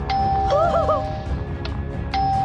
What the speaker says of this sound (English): It's ringing the doorbell.